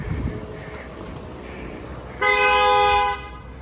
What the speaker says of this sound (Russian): Как любят сигналить, а?